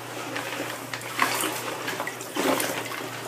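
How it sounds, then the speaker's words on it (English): A shower curtain is swished around in a bath of warm water mixed with baking soda and vinegar, producing close, soft sloshing and splashing in two brief surges. "put your shower curtain in the bath and just move it around."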